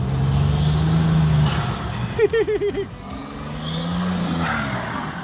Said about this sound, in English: So with my Typhoon running and driving and sounding like that